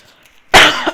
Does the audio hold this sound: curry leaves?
no